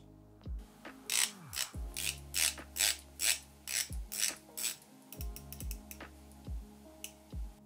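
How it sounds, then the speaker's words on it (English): A Bremont dive watch bezel is turned by hand, giving a quiet, close series of crisp ratcheting clicks in an irregular rhythm, some clicks quicker than others, with no voices. "This is how the bezel sounds."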